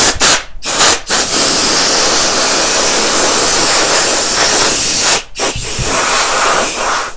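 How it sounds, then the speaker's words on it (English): Compressed air from a blowgun hisses across a brake caliper from a Toyota Corolla XRS/Matrix being prepared for painting. Long, loud, steady blasts are broken by a few brief pauses near the start and once more later on. "we're gonna blow dry this real quick"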